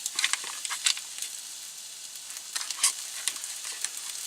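Onions sizzling in Kerrygold butter in a pan for an Irish-style shepherd's pie, a close, steady crackling hiss with small pops and occasional stirring scrapes.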